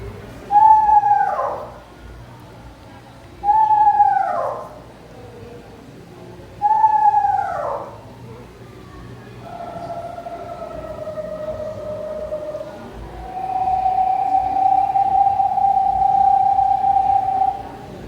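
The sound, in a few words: gray phase eastern screech owl wavering whinnying call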